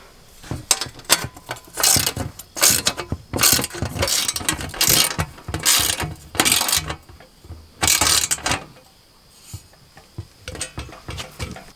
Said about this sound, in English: 13mm socket, and we'll be able to tighten these down.